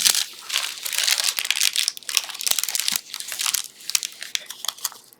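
Paper crinkles and crunches continuously while being worked into a hot-glued paper mache junk-craft torso, with dense, close crackling and scattered sharp crisp bursts throughout.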